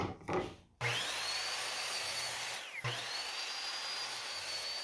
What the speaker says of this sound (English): I'm going to even out this bottom on the miter saw and cut the top roof parts